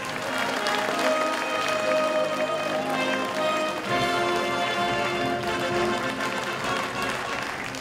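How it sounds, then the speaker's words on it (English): A cruise ship audience aboard the P&O Pacific Pearl applauds its captain, with a continuous wash of clapping heard under loud background music, both steady throughout and fairly close. "give him a nice big round of applause"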